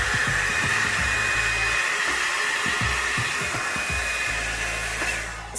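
A Revlon One-Step hot air brush dryer and volumizer blows steadily and loudly for the whole stretch, with a constant airy roar and a high motor whine, and no one speaking.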